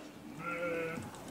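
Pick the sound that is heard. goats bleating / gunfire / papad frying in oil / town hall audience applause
goats bleating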